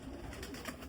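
Salara pigeons, an old Mian Sahab bloodline, coo in a low rolling murmur, short overlapping throaty notes heard close amid soft flapping and shuffling.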